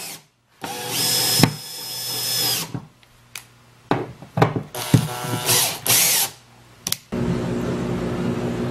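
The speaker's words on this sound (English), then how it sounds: "Just gonna use drywall screws." A power drill drives drywall screws, with several loud whirring bursts of varying length separated by brief pauses and clicks, the last run steadier and lower, with no talking.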